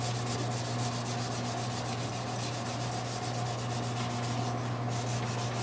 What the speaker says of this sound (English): And now I'm going to go over it with wet sandpaper. 600 still, but I'm just going real easy.